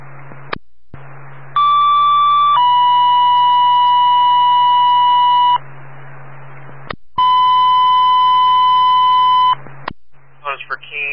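Loud two-tone fire dispatch alert sequences for Keene, New Hampshire, each a short tone stepping into a longer held tone, repeated twice over a low radio hum with brief static bursts between.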